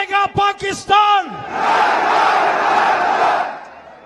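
A large outdoor crowd at a Pakistani political rally for Imran Khan roars back a slogan in unison after a shouted call, the massed response swelling into a sustained loud cheer for about two seconds before fading.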